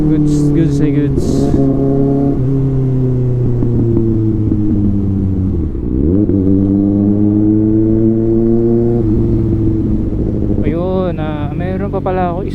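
A 2024 Kawasaki ZX-6R with an inline-four engine riding along, its engine note rising and falling through gear changes, loud and close throughout, with a brief higher whine near the end.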